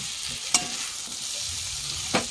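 Fried fish roe of American rohu stirred in a hot pan: a constant sizzle with two distinct scraping clicks of a spatula, close and clear.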